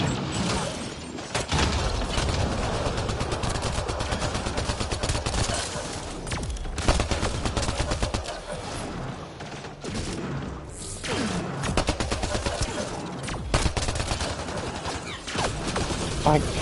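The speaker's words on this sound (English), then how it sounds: "Everybody out and start shooting." Sustained gunfire in a Mass Effect Andromeda battle against Kett forces, with rapid bursts and heavy thuds filling the mix almost without pause, and voices talking over the shooting.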